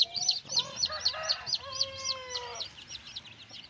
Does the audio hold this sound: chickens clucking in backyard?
yes